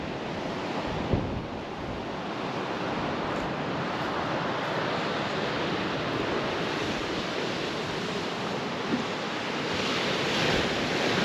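Ocean surf rolls onto a South Australian beach beside an off-grid campsite on the Eyre Peninsula, a steady broad wash of breaking waves mixed with wind buffeting the microphone, with no voices.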